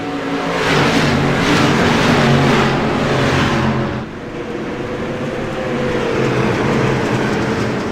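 Twenty-six race cars roar around the track at Lakeland, Florida under green at a Sunday night shootout, a loud, continuous pack of engines sweeping past close by, the roar easing slightly halfway through as the field moves on.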